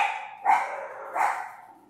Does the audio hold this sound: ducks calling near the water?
no